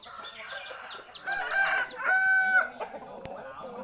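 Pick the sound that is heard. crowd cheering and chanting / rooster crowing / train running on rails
rooster crowing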